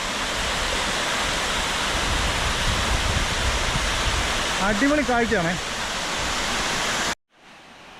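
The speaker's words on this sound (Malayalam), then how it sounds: "വേങ്ങത്താനം അരുവിയുടെ കാഴ്ചകൾ കണ്ടോ" The Vengathanam stream waterfall in Kottayam, Kerala rushes with a steady, full roar of falling water. A voice speaks briefly over it, and the sound cuts off abruptly near the end.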